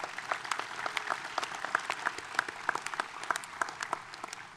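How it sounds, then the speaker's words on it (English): Scattered, fairly faint crowd clapping at an outdoor Memorial Day ceremony in Roswell, with sharp individual claps pattering irregularly and no talk. "I think we ought to give God a hand clap of praise."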